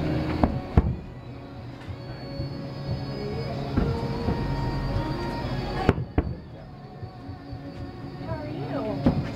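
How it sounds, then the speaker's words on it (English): Fireworks boom and crackle in the distance over Boston amid a steady crowd murmur, with a few sharper bangs standing out over the chatter. "We're watching the fireworks in Boston"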